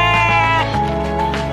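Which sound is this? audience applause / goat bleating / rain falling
goat bleating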